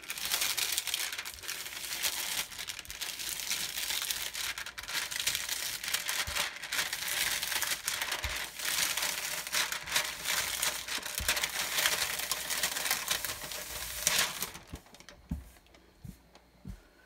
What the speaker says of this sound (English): I'm going to remove the transfer tape.